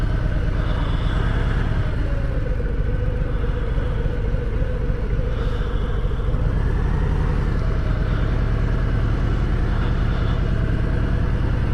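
A motorcycle engine idles steadily with a low, continuous rumble throughout, loud and close, with no talking over it.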